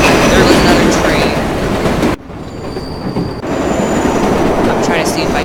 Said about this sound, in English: There goes another train.